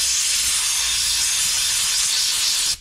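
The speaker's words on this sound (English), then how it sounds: "Let me spray that out a little bit. Blow it out." Brake parts cleaner is sprayed into a 2022 Toyota Tacoma oil filter housing during an oil change, giving a loud, continuous aerosol hiss close up that stops abruptly near the end.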